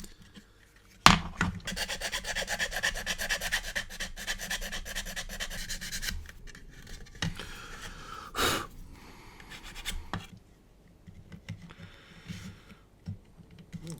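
A small part from a 1/32 Special Hobby Tempest Mk V plastic model kit gets trimmed to fit, with bursts of close rasping and scraping, a sharp click, and quieter fiddly handling between the strokes.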